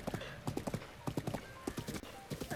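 Repeated hoofbeats of a horse galloping in the video game Zelda Breath of the Wild, a steady rapid clip-clop rhythm, close and clear, with no talking over it.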